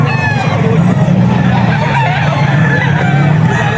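A stag rooster crows at the Bocaue pet market in the Philippines, set in a thick bed of steady market din with other fowl and passing traffic, all fairly loud and close throughout.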